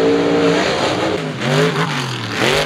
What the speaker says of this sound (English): It's got a 540 cubic inch blower motor in it.